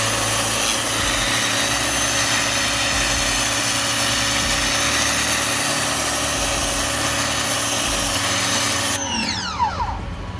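A Ryobi 1600 PSI 1.2 GPM electric pressure washer with a turbo nozzle blasts concrete in a loud, continuous spray-and-motor roar that cuts off abruptly near the end, leaving a whirring spin-down.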